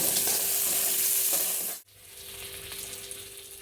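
Chopped tomato sizzling in a pan for a light home-style tengra fish curry, a loud steady frying hiss that cuts abruptly midway and returns quieter with soft stirring, close by and without talk.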